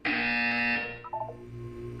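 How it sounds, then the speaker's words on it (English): A loud, sustained electronic buzzer from the Portal 2 test chamber drones alone for under a second, then cuts off into softer fading tones. "You will hear a buzzer."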